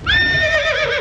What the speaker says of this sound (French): Oui, oui, j'entends des chevaux là.